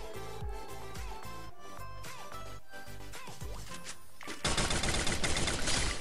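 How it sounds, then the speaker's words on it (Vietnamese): Gunfire in the mobile battle game Free Fire, with bursts of repeated shots and rapid weapon rattles, ending in a loud, dense volley. "Mình nghe tiếng súng rồi nha."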